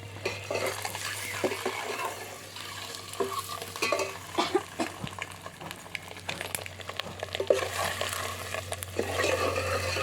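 Eggs frying in oil in a pan, a close steady sizzle with frequent stirring scrapes and clinks.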